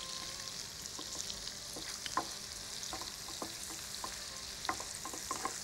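Chopped garlic and green chillies sauté in a pan, a steady soft sizzle with scattered spatula stirs and light crackles, close and alone without talk.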